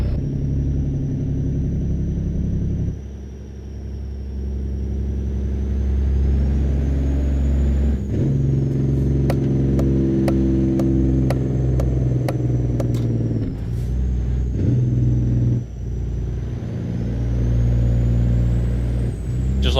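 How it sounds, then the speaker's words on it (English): A loud truck engine in American Truck Simulator, driven through Louisiana, keeps up a heavy, constant rumble with a steady whine on top and a run of sharp evenly spaced clicks midway, all close and alone without talk. "This damn truck is loud."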